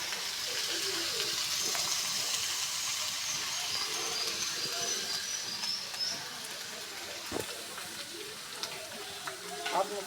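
Taro and eggplant go into hot oil in a pan already holding browned onion, garlic and green chillies, giving a steady sizzle and hiss that eases slightly, with a few soft clinks near the end.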